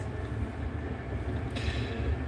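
Interior rumble of a train bound for Alloa on a Scottish line, steady low running noise with wheel and carriage vibration throughout, a brighter hiss rising slightly toward the end, no voices.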